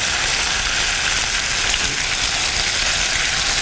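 Garlic sizzles and fries in a hot pan while steak is being cooked, giving a steady, close, dense crackle that holds evenly throughout with no talking.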